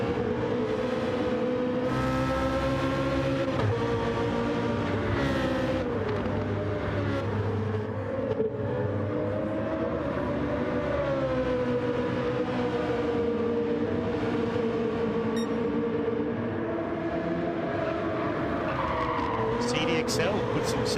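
Race cars lapping Brands Hatch in a sim racing game, engines droning and shifting pitch continuously with occasional tire squeal, heard steadily under talk throughout.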